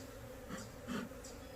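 A steady, fairly quiet buzzing of honeybees around an open Langstroth hive, swelling slightly now and then, continuous throughout with no talking.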